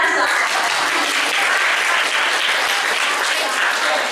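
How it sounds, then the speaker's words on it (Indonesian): Dense, loud applause from a student audience at a literacy seminar, continuous even clapping from many hands sustained throughout without a break. "Silahkan tepuk tangan."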